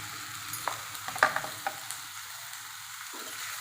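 Chopped malalu greens are stirred and fried with onions in a pan, a soft sizzle under several scattered scraping clicks of the spoon, close and quiet with no talking.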